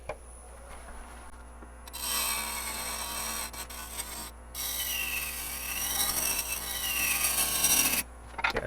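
Large gouge cutting a spinning bocote blank on a wood lathe, a steady close scraping and hissing that drops out briefly and returns, rising toward the end, with no voices.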